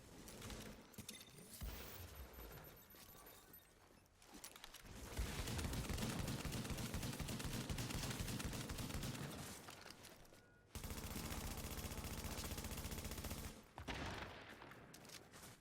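Shotgun fire in The Division game comes in loud, dense bursts of rapid shots, broken by brief pauses and quieter stretches, with no talking.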